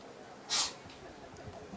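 A single short sneeze bursts out faintly in the background of a Legion baseball game broadcast, a quick sharp puff over steady crowd and field ambience.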